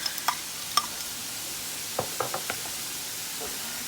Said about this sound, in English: I'm going to keep on cooking this ground beef for about 7 or 8 minutes until it's fully cooked and brown